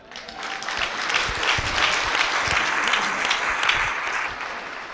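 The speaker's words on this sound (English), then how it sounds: "Yeah, you can clap." An audience at a church talk breaks into loud sustained applause, a thick continuous roar of clapping hands that swells in and holds steady.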